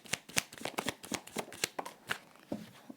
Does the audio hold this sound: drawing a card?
yes